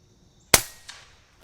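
A single sharp crack from an FX Dreamline air rifle fitted with a Dream-Pup bottle, close and loud, with a brief decaying tail and a faint second click just after.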